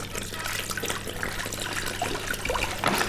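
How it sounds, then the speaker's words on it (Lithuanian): Bottled mineral water poured out for a salt brine, a steady close splashing trickle running the whole time at a fairly quiet level, with no talk over it. "Taigi, pilame vandenį."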